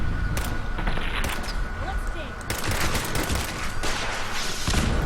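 Gunfire and rocket launcher blasts in the game Fallout 4, a dense, loud barrage of overlapping shots and booms that continues without break under game sounds.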